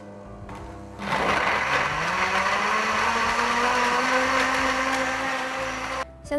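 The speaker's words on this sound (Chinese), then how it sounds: "先来打一个漂亮的果汁来做花卷儿，我们把胡萝卜放进去，加入清水，然后把盖子盖上" A kitchen blender whirs loudly and steadily, blending chopped carrots with water into juice; the motor spins up after a brief pause and runs continuously for several seconds before cutting off, with no talking.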